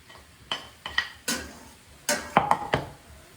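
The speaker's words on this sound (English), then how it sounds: "We're going to put in let's put in our garlic, our 4 cloves of garlic here." Garlic cloves go into a hot pan of mushrooms for a balsamic soy glaze, bringing a light sizzle under a series of close metallic clinks and scrapes from a utensil against the pan, with no talking.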